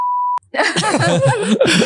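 A single steady electronic censor-style beep tone, loud and pure, lasts under half a second before a brief pause and then a person talking.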